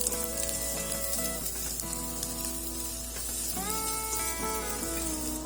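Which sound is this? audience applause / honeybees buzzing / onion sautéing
onion sautéing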